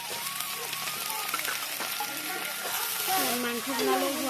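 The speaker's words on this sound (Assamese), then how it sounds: "এয়া কেৰাহীত তেল চেল দি আৰু শাকখিনি ভাজিব লৈছে" Finely chopped leafy greens fry in oil in a kadai during home cooking for Bihu, with a soft, continuous sizzle and occasional stirring clatter, fairly quiet throughout.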